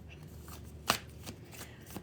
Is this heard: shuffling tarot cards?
yes